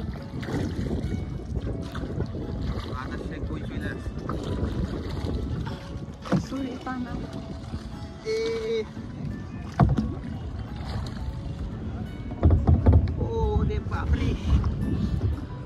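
A rowboat moves across open water into a headwind, with wind buffeting the microphone, water splashing against the hull and occasional knocks, while people talk nearby.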